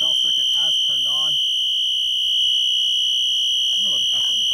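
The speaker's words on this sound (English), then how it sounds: "And you connect it, the bell circuit has turned on." A fire alarm bell circuit on a security system rings with a loud, continuous, high-pitched electronic tone, close by, while someone talks over it in short bursts.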